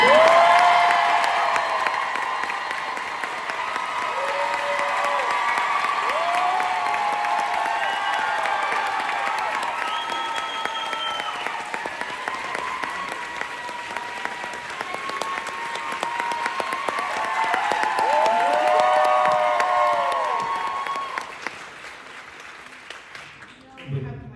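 An audience at a book tour event in Charlotte, NC applauds and cheers as a guest walks onto the stage. The clapping is sustained and dense, with whoops scattered through it. It swells near the end, then cuts off.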